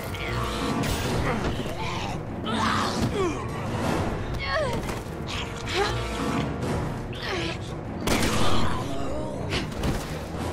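Gunfire and booming impacts in the video game Resident Evil 6, scattered shots and mechanical clanks mixed under dramatic music and character voices talking throughout.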